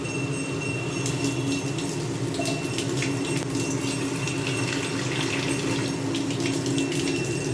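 Water is poured into a pan of fish and spice masala for a pabda fish curry on a gas stove, a steady, close splashing gush that runs without pause and with no voices.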